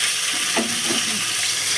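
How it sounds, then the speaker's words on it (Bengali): Fish tail pieces frying in a pan give a continuous close sizzle with a brief stirring scrape partway through and no talking. "এই দেখো আমার পুরো লেজা ভাজা হয়ে গেল"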